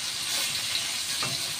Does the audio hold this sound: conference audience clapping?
no